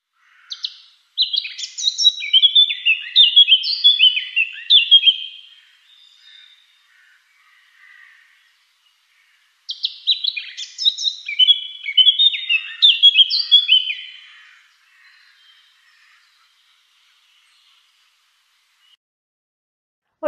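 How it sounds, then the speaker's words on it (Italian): Bright, rapid birdsong from birds hidden in foliage, in two long phrases of twittering, warbling notes, separated by a quiet pause; clear and fairly close, with no talking. "ascoltando il canto degli uccelli nascosti tra le foglie e la vegetazione"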